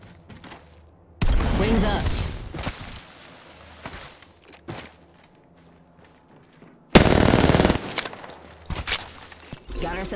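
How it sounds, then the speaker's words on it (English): Gunfire in the video game Apex Legends comes in two loud sustained bursts of rapid shots, separated by quieter stretches of footsteps and movement. "Opening fire. I'm taking fire."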